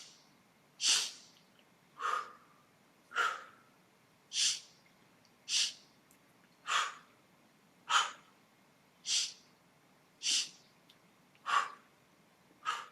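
A person doing a Pilates exercise breathes out in short, sharp, rhythmic exhales, about eleven evenly spaced puffs, close and fairly soft with no talking.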